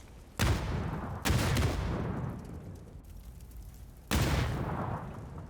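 Three heavy, booming gunshot bursts from a PUBG match, each loud and close with a long rumbling tail, spaced about a second and then three seconds apart.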